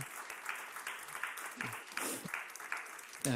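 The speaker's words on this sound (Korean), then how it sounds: "박수해 주시기 바랍니다" A church congregation claps for newly appointed ministers for the children's and youth departments, giving a steady, moderately loud wash of applause with a brief louder burst near the end.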